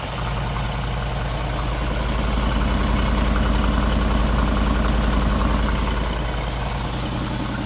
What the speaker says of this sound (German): Der Motor läuft richtig rund